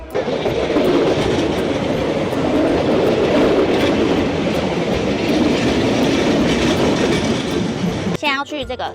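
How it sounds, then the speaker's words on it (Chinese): A train passing on the railway tracks right beside a street food stall in Thailand, a loud continuous rumble with rhythmic clickety-clack of wheels that cuts off abruptly near the end. "火车来了。"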